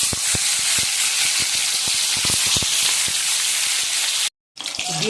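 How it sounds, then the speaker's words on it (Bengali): A boiled egg rubbed with turmeric and salt fries in hot oil in a wok, giving a dense steady sizzle with frequent sharp spatters, cut off by a short silence before the frying resumes. "ডিমটা ভাজা হয়ে গেছে, লাল লাল করে ভেজে নিলাম।"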